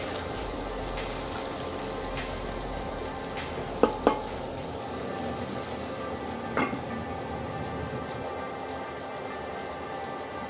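Beef liver and potatoes frying in oil in a pan, giving off a steady, even sizzle throughout, with a few sharp stirring clicks and scrapes near the middle.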